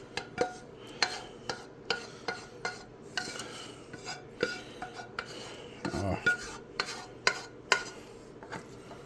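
Cheesy au gratin potatoes are scooped into a greased dish, with repeated scraping and clinking of a utensil against the dish in an irregular rhythm, close and fairly quiet, with no talk.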